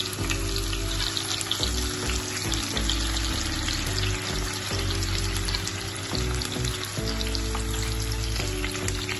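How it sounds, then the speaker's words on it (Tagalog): Tofu sizzles and fries steadily in a hot pan for tofu sisig, a dense continuous crackle with bursts of spattering oil, close and loud with no talking. "So, tingnan natin yung ating piniprito."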